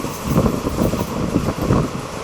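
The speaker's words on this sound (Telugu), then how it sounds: "ఈ రూట్లో మన ట్రైన్ ఈ స్పీడ్లో ప్రయాణిస్తోంది" Passenger train No. 17662 from Basara to Kachiguda rumbles along at speed, a steady low rolling roar with rhythmic wheel-on-rail pulses heard from inside the carriage.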